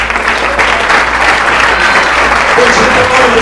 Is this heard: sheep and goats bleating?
no